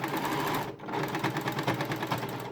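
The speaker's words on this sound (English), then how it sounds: "pop your foot on and take it very slowly, do a bit of sewing, move on, do a bit of sewing" A sewing machine stitching a bunny's hood to its body, running steadily at close range with a rapid, even whir, pausing briefly once before carrying on.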